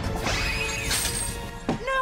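Glass windows struck underwater in a cartoon, giving loud crashing smacks and whooshes with a sharp thwack near the end, continuous throughout.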